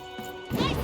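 A cannon fires in a video game as a short, heavy boom after a brief lead-in, loud and close, with the blast ringing on to the end of the moment.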